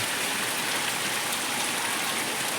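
Steady, heavy rain pours through a stormy spell, a dense continuous hiss without breaks or voices.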